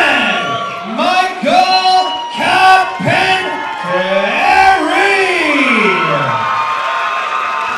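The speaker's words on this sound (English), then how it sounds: "The crowd is going off here, George." An arena crowd at a fight roars and cheers in surging waves of shouts and whoops, loud and close, while an announcer calls out a fighter's name.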